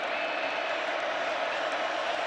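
Steady roar of a large football stadium crowd at a Texas Tech vs Arizona State college game, a continuous dense wash of cheering voices with no breaks, moderately loud and distant.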